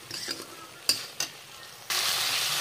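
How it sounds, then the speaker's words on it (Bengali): Spice paste being stir-fried with salt, for a potato and eggplant dish: a few scraping stirs and clinks of the spoon against the pan come first, then a loud, steady sizzle takes over. "এবার অল্প মশলাটা কষাইমু।"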